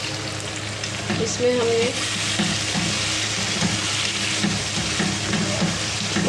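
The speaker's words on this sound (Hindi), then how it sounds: "ये हमारा सालन मसाला भूनने वाला है।" Curry masala sizzles and fries steadily in a pan on the heat, with stirring scrapes audible throughout and a brief voice speaking partway through.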